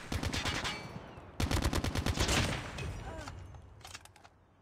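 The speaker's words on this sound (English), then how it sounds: "Look at that sniper rifle." Rapid gunfire from a sniper rifle in a shooting video game, two sharp bursts of quick repeated shots with a short gap between them, followed by quieter scattered game sounds.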